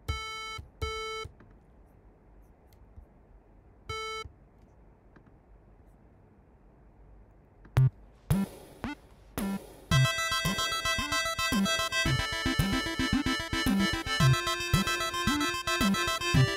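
Famicom-style chiptune synth tones in music production software: a few sparse isolated beeps first, then a busy bright square-wave melody with bass and percussion kicking in loudly and continuing.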